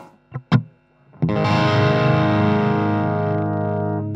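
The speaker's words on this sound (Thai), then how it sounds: "อันนี้เป็น OD นะครับ" An electric guitar runs through the overdrive setting of a NUX Mighty Amp with gain set around 6 to 7. Two quick picked notes are followed by a loud, sustained distorted chord that rings out and slowly fades.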